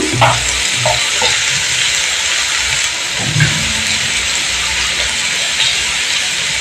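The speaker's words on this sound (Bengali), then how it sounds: "এবার আমি ওইটাকে ওই লাল লাল করে ভেজে নিই" Pieces of yam (ol) fry steadily in hot oil with salt and turmeric, giving a loud, continuous sizzle close by, with a few soft stirring knocks along the way.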